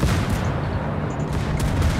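The New Mexico battleship's secondary battery firing in World of Warships: a loud, dense burst of rapid gunfire rolling together into a continuous rumbling barrage.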